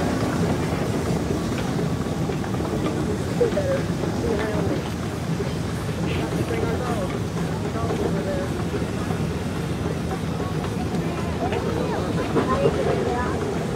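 A 2265 horsepower Caterpillar engine runs at a sawmill during a parade, giving a steady, loud low rumble and drone that continues throughout, with voices talking over it.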